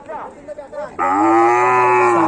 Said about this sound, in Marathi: छोटा आहे वासरू बघू शकतात तुम्ही आवाज करतोय